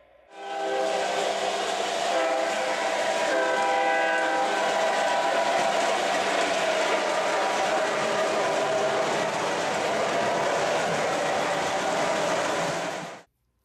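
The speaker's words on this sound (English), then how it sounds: "we have the massive Pennsylvania Railroad E8s" A model train locomotive, a Pennsylvania Railroad E8, runs steadily nearby, a continuous loud motor whine with layered humming tones, stopping abruptly at the end.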